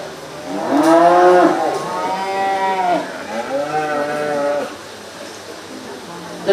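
Cattle at a 4H county fair cattle show, commercial breeding heifers, give several long, drawn-out moos in a row, loud and fairly near, with calls overlapping and tailing off.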